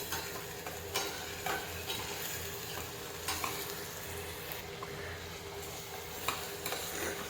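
Mint, coriander and green chillies roast in a pan over a low flame, making a faint, steady hiss broken by soft stirring clicks about once a second. No one talks.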